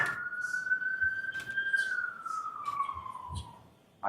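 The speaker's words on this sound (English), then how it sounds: "I just wanted the siren to go by." A siren passes outside at a distance in a single long, sliding wail that is faint and muffled. It fades away over a few seconds in a quiet room with no talking.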